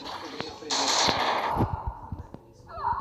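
Rapid bursts of automatic gunfire from the game Free Fire, a sustained rattling volley followed by scattered single shots and thuds.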